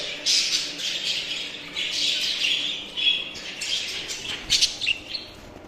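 Aviary birds squawk and chirp repeatedly as a male chases a grey female among several males, a busy chorus of sharp, close calls with no talk.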